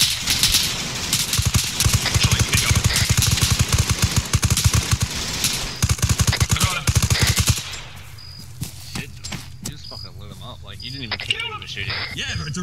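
Loud, rapid automatic gunfire from a gun in Arma 3, a sustained burst lasting several seconds that stops abruptly. Quieter sounds follow, with scattered sharp noises and voices talking.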